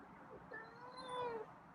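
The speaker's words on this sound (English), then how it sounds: "he's meowing" A feral cat meows in a drawn-out, rising and falling cry over a steady low background hum, fairly close and clear.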